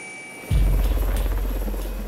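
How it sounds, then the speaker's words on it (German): A rescue helicopter flies toward the Hörnli hut below the Matterhorn near Zermatt in the Swiss Alps, its rotor throbbing in suddenly, loud and close, and then holding steady. "Ein weiterer Helikopter ist im Anflug auf die Hörnli-Hütte"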